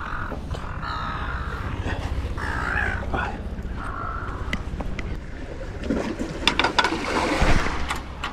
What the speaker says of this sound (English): Look at all these seagulls.